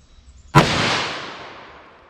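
A single loud .44 revolver shot from a Smith & Wesson Model 69 at a shooting range: one sharp crack after near-silence, followed by a long decaying echo.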